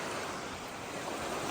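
Water surges continuously at a coastal gold mining site in southern Oregon, a dense, steady roaring wash like surf close by, filling the whole moment without any voices.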